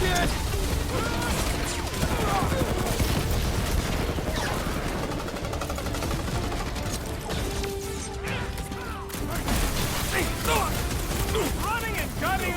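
Dense, rapid gunfire and crashing impacts on rooftops in the video game Guardians of the Galaxy continue almost without pause, loud and busy, with brief voices mixed into the battle.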